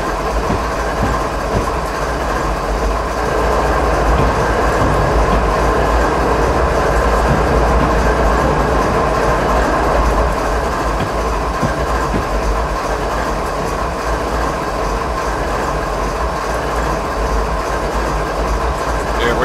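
A long train in the video game Train Simulator 2015 rumbles steadily along rails with continuous low roar and faint rhythmic clatter, loud and close throughout.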